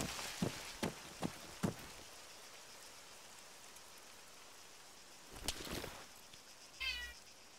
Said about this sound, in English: Kitty, you're being a pest.